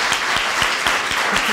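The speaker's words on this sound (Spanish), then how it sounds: "Un aplauso." Studio audience applauding on a Spanish evening dance show, a steady wash of many hands clapping at full volume, with regular sharper claps cutting through the dense noise.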